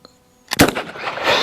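A Winchester 9410 shotgun fires once at milk jugs outdoors: one sharp, loud blast after near silence, followed by a rolling echo that fades slowly.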